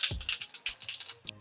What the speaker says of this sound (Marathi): मोहरी तडतडत आली की त्याच्यात जिरे घालूयात